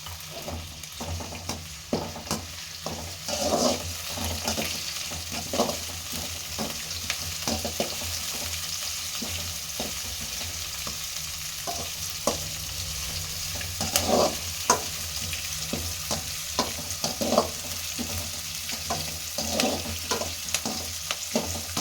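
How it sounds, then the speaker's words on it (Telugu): Onions and curry leaves sizzle in a pan for a chicken curry, with a steady frying hiss and regular scraping strokes of a spoon as they are stirred. "ఎర్రగడ్డ బాగా ఏగనివ్వాలి."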